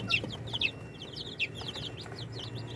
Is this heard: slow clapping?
no